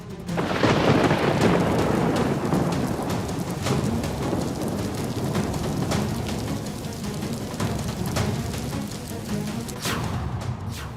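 Thunderstorm with heavy rain and repeated rolling thunder, loud and constant across the clip, used as a sound effect in a weather news report about a storm approaching Maharashtra and Gujarat; faint bird calls may also be present.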